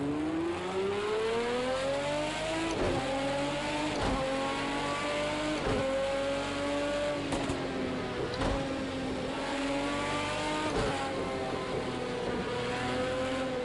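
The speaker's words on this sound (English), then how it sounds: "the engine sounds of this game are a complete day and night from Project Cars 1" A race car engine in the racing video game Project CARS 2 drones steadily, its pitch rising and falling through repeated gear changes with brief shift breaks, loud and continuous with no talking.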